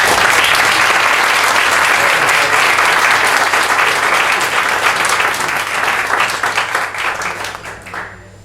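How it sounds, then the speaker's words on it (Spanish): Loud, dense audience applause at a lifestyle medicine congress, many hands clapping together steadily before thinning into scattered claps and dying away at the end. "lo primero que pido es un aplauso para ustedes"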